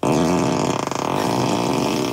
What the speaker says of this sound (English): Ludicrous Fart.